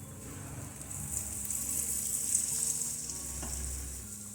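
Malpua (sweet fried pancakes) frying in a pan of hot oil, giving a steady, moderately loud hiss with some stirring and no talking.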